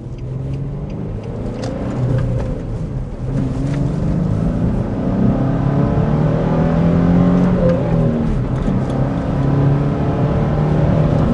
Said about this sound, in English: we're going to do a quick acceleration.